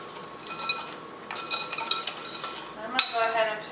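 A spoon stirs sugar into apple pie filling in a bowl, giving close clinking and scraping against the sides in uneven bursts, with a brighter clink near the end.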